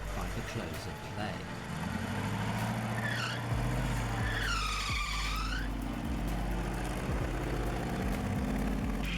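Racing cars, one diesel-powered and one with a 3.5-litre V8, run at a motorsport event, heard as a constant engine drone with rising and falling tones passing by, while a commentator talks over it.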